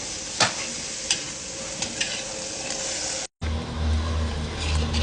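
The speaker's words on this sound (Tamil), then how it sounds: "இஞ்சி பூண்டு வெங்காயம் நல்லா வதக்கிடுச்சு." Onion, ginger and garlic sautéing in a pan, a strong continuous sizzle with a few sharp utensil clicks early on and a brief cut before the frying resumes, no voices.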